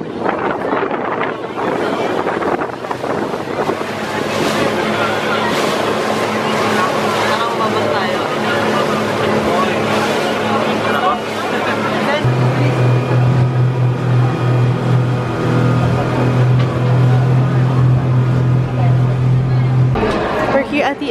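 A boat engine drones steadily during a boat ride leaving Boracay, close and loud under heavy wind buffeting on the microphone. A strong low hum grows in the second half, with voices talking over it.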